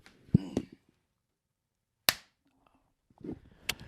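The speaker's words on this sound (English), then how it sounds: "All right, I'm going to clap." A single sharp, close hand clap rings out alone in a quiet room on a podcast, bracketed by brief bits of nearby talk.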